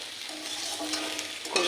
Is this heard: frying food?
yes